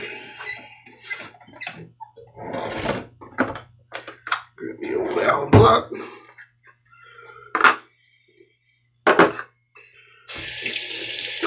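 Cold tap water runs into a sink for an alum rinse after a shave, in intermittent splashing bursts with pauses between them. Someone talks at times, and a louder rush of water closes the sequence.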